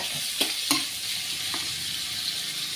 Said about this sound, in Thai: ใส่ลงไปผัด เพิ่มความหอมครับ ให้กับ เนื้อหมูสามชั้นของเรา ผัดด้วยไฟอ่อนๆนะครับ